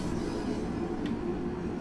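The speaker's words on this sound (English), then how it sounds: "Sounds like we've got another train somewhere heading off." A London Underground train on the Bakerloo Line in Train Sim World 2 rumbles away in the background, a steady low roll of wheels and motors with a faint squeal.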